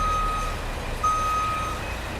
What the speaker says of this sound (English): backing the wheel loader to a loading dock